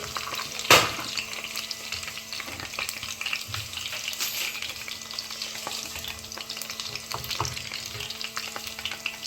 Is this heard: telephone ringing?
no